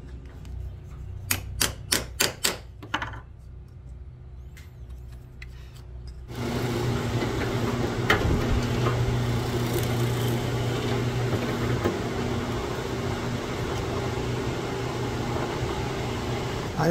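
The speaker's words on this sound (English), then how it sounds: "Let's drill some holes." A drill press boring holes in old oak stock: a few sharp clicks come first, then the machine kicks in with a steady, loud whirring drone that carries on to the end, with no talk.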